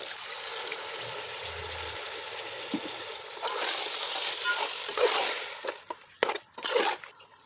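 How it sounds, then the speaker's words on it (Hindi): Water splashes and trickles into a pan of sizzling minced meat and peas, the sizzle swelling as it pours, followed by a few clanks and scrapes; speech is heard briefly. "अब हम इसके थोड़ा सा पानी डालने लगे हैं।"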